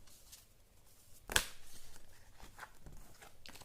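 A deck of tarot cards is shuffled by hand in a quiet room. Soft papery riffling is broken by one sharp flutter, then continues as low rustling.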